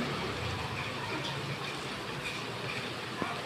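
Rainwater streams steadily off a tin roof in a constant hissing patter of light rain, fairly faint and unbroken, with no one talking.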